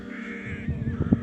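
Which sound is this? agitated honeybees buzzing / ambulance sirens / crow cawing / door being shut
crow cawing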